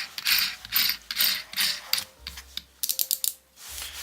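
The keyless chuck of an Einhell 18V brushless combi drill being twisted and ratcheted, bursts of crisp rapid clicks in several turns with short pauses, close and loud, no talking.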